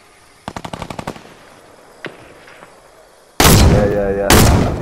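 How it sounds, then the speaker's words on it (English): Fortnite gunfire: a rapid, sharp burst of about nine shots, then a lone distant-sounding shot, followed by a sudden, loud, harsh blast of noise that lasts to the end. "Who's shooting, who's shooting?"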